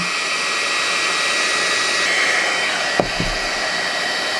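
A GHD Duet hair dryer styler blasts air to dry wet hair with a steady, loud, close whoosh that holds throughout, broken by a brief knock near the end.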